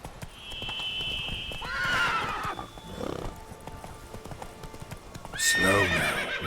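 Horse hooves clip-clop at a gallop in the Witcher 3 video game, steady and close, with a whinny breaking in near the end over faint background game ambience.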